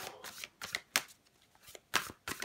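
Tarot cards being shuffled by hand, several quick papery riffling bursts with short pauses between them, close and fairly soft, with no talking.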